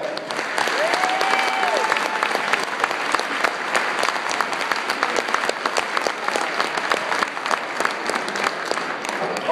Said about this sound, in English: these seniors, along with the other guys, deserve a big round of applause